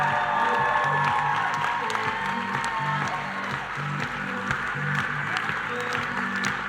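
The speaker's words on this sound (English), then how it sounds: "if you could show a huge round of applause for all of your NMDs, all of your speakers who put today together." An audience at a Game Plan 2019 conference applauds and cheers for the day's speakers, with loud continuous clapping, scattered whoops and some crowd voices mixed in.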